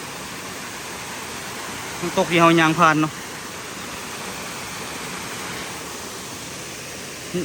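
Rushing water from a forest waterfall, a steady broadband wash that runs through the whole stretch, with a brief spoken phrase rising over it near the middle.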